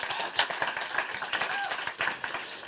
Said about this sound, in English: We can still give him an applause.